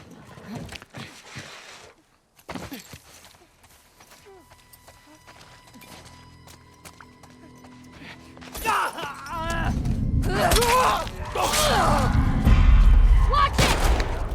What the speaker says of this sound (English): Dina, what are you shooting at?